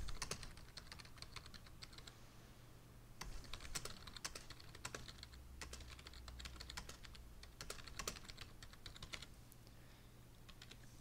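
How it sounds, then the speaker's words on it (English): Steady typing on a computer keyboard while a question is entered into a Google Docs form, with irregular close clicks and short bursts of keystrokes running throughout over a low background hum. "So I type in the question."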